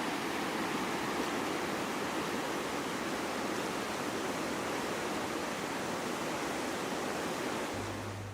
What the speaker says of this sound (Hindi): इस पूरे माहौल में दरिया का पानी ही नगमे सुना रहा है